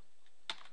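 A single soft keystroke on a computer keyboard while entering a custom Excel function, a brief close tap in a quiet room.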